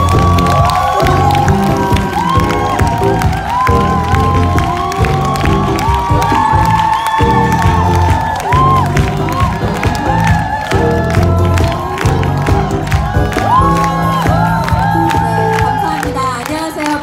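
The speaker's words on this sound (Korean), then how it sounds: "큰 박수와 함께 블루 다이아몬드 정민진 사장님 모셔보도록 하겠습니다." Seminar audience in a hotel ballroom applauding and cheering to welcome a speaker to the stage, loud sustained clapping with shouts over rhythmic music, continuing strongly for about seventeen seconds.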